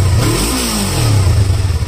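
A 2019 Yamaha R3 sport motorcycle on its stock exhaust is revved close up, with a couple of quick throttle blips that rise and fall in pitch over a loud steady engine note.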